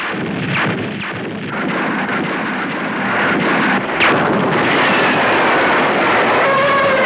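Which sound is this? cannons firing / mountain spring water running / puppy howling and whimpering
cannons firing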